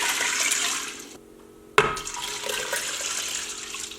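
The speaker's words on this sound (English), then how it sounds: "and then add 8 cups of water" Water gushes into an Instant Pot inner pot holding a pound of rinsed kidney beans, a steady rushing pour that pauses briefly, then resumes with a sharp splash and continues, close and alone.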